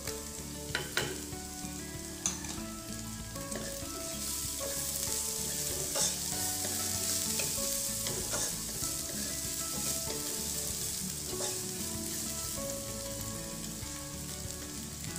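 Rice stir-fried with kaffir lime leaves for nasi goreng liwet sizzles loudly and continuously in a pan, with intermittent scraping clicks of a spatula stirring, while soft music plays underneath.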